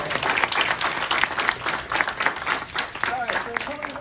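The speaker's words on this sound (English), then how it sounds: "So let's all give him a round of applause." Audience at a Creighton University podcast panel claps for a hometown panelist: dense, steady applause from a crowd, fairly close, with a voice speaking over it near the end.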